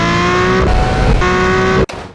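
A Lamborghini Murcielago engine runs loud and close, a steady dense roar with strong harmonic tones that holds for almost two seconds before cutting off abruptly, leaving a brief quieter tail.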